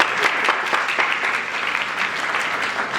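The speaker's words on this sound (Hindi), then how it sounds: "मिशन नजर के लिए तालियां हो जाए।" Applause fills a Sunday church worship service, a dense, steady wash of crowd clapping that runs loud and unbroken from start to finish with no talking over it.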